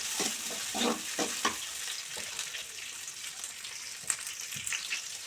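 Sliced onions and chillies sizzle steadily in a pan of hot oil during chicken curry preparation, a continuous crackling fry with occasional stirring scrapes, close and even throughout.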